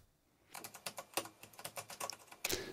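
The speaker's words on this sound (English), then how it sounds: "I was a big fan of the mechanical keyboard. It's not too clicky and has good tactile feedback." Typing on the mechanical keyboard of an MSI GT77HX Titan laptop: a quick, close run of crisp keystrokes, fairly quiet, with a louder cluster at the end.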